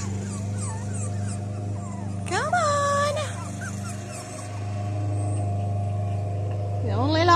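Young puppies on their first time outside whimper and give high, wavering yips in a few separate bursts. They sound close, over a steady low droning hum.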